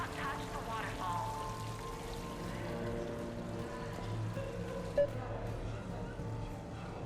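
Steady pouring of the casino waterfall in Mass Effect 3, an unbroken rushing water texture with faint crowd murmur and a short click near the end.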